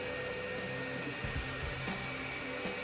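A 3D printer running a print in a home workshop, a steady whirring mechanical drone with faint stepping tones, constant and moderately quiet throughout with no talk.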